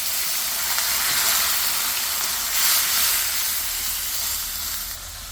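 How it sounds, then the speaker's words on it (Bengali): A splash of water poured onto frying garlic, ginger and spices in a hot pan, giving a loud, close, steady hissing sizzle with a rush of steam. "একটু পানি দিব যাতে মশলাটা পুড়ে না যায়"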